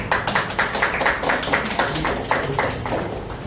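Parents and teachers at a school meeting clap together in a fairly steady rhythm of sharp, close claps that holds at an even level for a few seconds.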